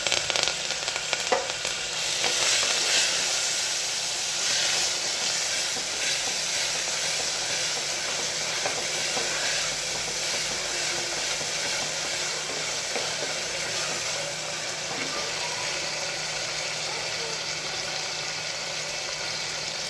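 Chopped onion and tomatoes sizzle and fry in a hot pan, a steady close hiss with light crackling that flares near the start and then settles into an even, continuous sizzle.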